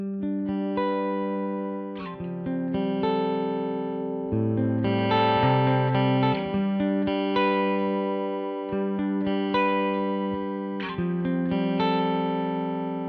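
An electric guitar plays clean chords and melodic lines through a Line 6 POD Express, with a bright, scooped Fender-style tone, sustained ringing notes and steady strumming, alone and close.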